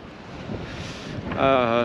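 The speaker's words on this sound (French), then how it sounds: "il y a encore beaucoup de vent" Strong wind buffets a boat at anchor in a small port on Fogo, Cape Verde, a gusty rumble and rush against the microphone, briefly joined by a voice near the end.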